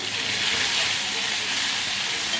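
Ginger paste sizzles in hot oil in a pan while a prawn curry is cooked, giving a steady, bright, hissing fry that holds level without a break.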